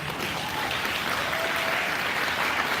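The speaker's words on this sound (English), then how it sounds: "everybody can give you both a round of applause" A crowd applauds steadily at a bicycle summit awards and closing session, a dense wash of clapping that holds at full strength throughout without any voices over it.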